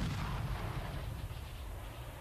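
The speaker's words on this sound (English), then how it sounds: "The Bosnian Defence Force shelled Serbian artillery positions 2 miles out across this high plateau." Artillery shelling in 1992 Bosnia, with Bosnian forces firing on Serbian positions across a high plateau, comes through as a faint, distant rumbling roar with low booming, heard alone without speech.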